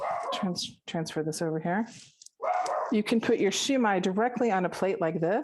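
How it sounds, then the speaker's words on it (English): A dog barks in the background of a home kitchen during a shumai dumpling steaming demonstration, the barks brief and partly buried under steady close-up talking. "apologies for the dog barking."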